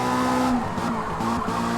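Race car in Forza pushing through a corner, tires squealing and skidding over a steady engine drone, loud and close for a short burst.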